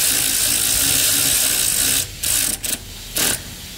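Fast clicking of a 3/8-inch ratchet turning a 16 mm swivel socket on a Jeep Wrangler alternator, a continuous rapid ratcheting whir close up, ending in a few short stop-start bursts, no talk.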